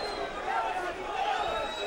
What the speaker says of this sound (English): The crowd finally getting into it again.